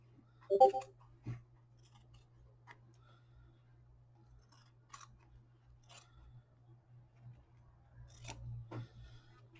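Scissors snip through fleece fabric with a few sparse, quiet clicks and cuts spread over several seconds against a faint steady hum, no talk.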